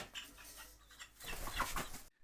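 A young cockerel about five weeks old clucks in short, soft bursts at close range, then cuts off abruptly.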